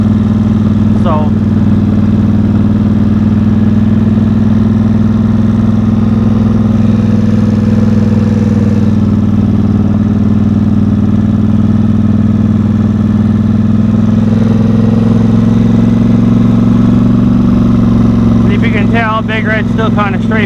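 The engine of Big Red, a machine with a straight-pipe exhaust, idles in a loud, steady low drone for about twenty seconds at close range, with only slight changes in pitch.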